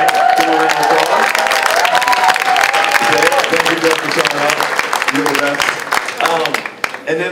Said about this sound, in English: Bill Russell's here tonight. Give him a round of applause.